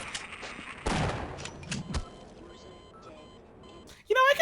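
Gunfire in Half-Life comes as a few sharp, scattered shots, with a louder burst near the start. Quieter game noise fills the middle, and a high tonal sound flares up at the very end.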